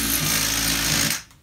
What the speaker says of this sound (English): I'm using a drill with a step bit on it.